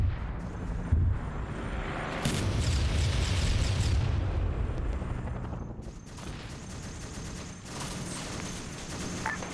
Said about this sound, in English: There's more mortars